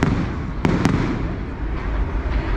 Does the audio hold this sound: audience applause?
no